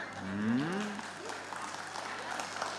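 Steady applause from a group at a traditional Balinese drama gong performance, with a voice calling out in a rising, wavering tone near the start.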